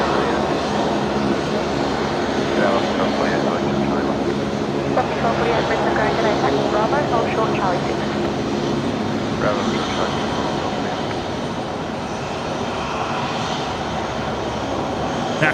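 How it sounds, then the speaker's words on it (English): Rex Saab turboprop starting to move at Brisbane Airport, its engine a steady continuous drone heard from a distance outdoors, with a voice talking over it throughout. "The Rex Saab there just about to get underway."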